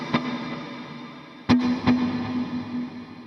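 Guitar notes run through an HX Stomp with delay and reverb, in a few distorted plucks followed by echoing repeats that smear into a reverberant tail, with no talking.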